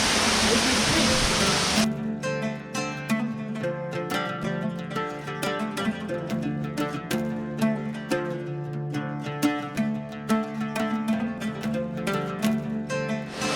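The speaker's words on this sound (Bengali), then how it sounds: "আর এটা পিছনে হচ্ছে ঝর্ণা" A rushing artificial waterfall roars loudly for a couple of seconds, then cuts off and gives way to music playing.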